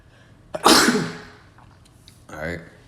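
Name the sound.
sneeze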